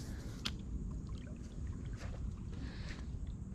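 A canoe or kayak glides across a quiet pond, with soft, faint paddle splashes and drips arriving every second or so over a low wash of water and light wind.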